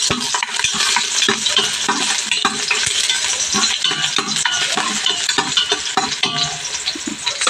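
Garlic fries loudly in oil close up, a dense crackling sizzle with frequent rhythmic spatula scrapes and clinks against the pan, no voices.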